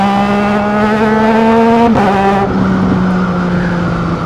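A 2025 Triumph Trident 660 middleweight motorcycle engine holds a loud, steady harmonic drone, briefly blipping around two seconds before settling into a rougher, lower-pitched run.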